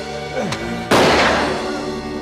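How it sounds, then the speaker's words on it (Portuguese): A single loud gunshot from a gun accidentally fired by baby Maggie in The Simpsons, a sudden sharp bang that decays slowly over a couple of seconds after a quieter cartoon sound effect. "Nisso deixou cair a arma no colo de Maggie. Então ela disparou acidentalmente."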